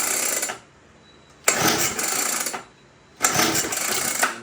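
A SYX dirt bike engine is pull-started: two loud bursts of sputtering engine roar, each lasting about a second or more, separated by a quiet gap.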